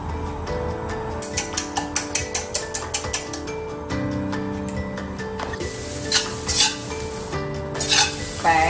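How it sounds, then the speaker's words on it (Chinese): Eggs being stir-fried in oil in a home kitchen: a run of quick, sharp spatula taps against the pan, then louder bursts of sizzling and scraping, all close up with no talking. "先炒鸡蛋。"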